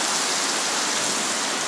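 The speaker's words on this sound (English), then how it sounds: "It just suddenly absolutely started pouring." Heavy monsoon rain pouring in the Kerala rainforest, a loud, steady, unbroken wash of water.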